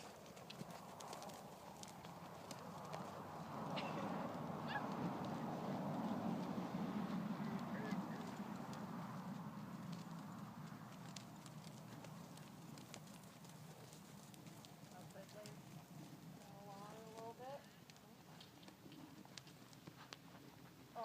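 A horse trotting during a riding lesson around cones in an arena. Steady, faint hoofbeats continue under a low background, with some distant bird-like calls and a little indistinct talk.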